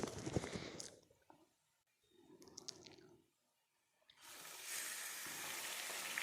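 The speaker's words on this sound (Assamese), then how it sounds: "এইখিনি এতিয়া মই চিকেনখিনি এতিয়া অলপ দেৰি কাৰণে ভাজি ল'ম" Broiler chicken sizzling as it fries with onions in a pan over a medium gas flame, quiet bursts of hissing with short pauses, then a steadier, louder sizzle near the end.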